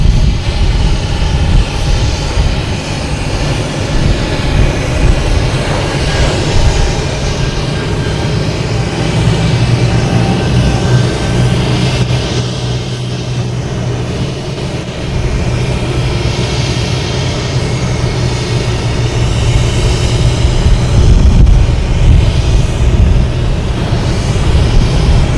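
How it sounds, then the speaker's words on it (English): An Airbus A220 jet departing Boston Logan gives off a long, loud, sustained engine roar with a deep rumble that swells and eases slightly over about 25 seconds, with no voices. "You have an A220 heading to Richmond that wants to get out of here."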